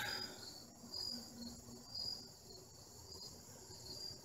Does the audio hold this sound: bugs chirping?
yes